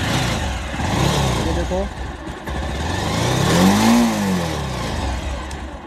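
Bajaj Pulsar 220 motorcycle engine revving up and settling back, a rising then falling engine tone close by, with someone speaking over it.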